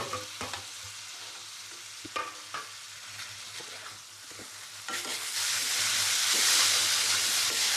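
Tomatoes go into onions frying in a pan, with stirring and intermittent sizzling that grows louder and steadier toward the end as the moisture hits the hot oil.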